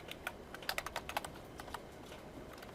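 Rapid clicking on a computer keyboard while typing a filename, with irregular bursts of sharp keystrokes close to the microphone and no talk.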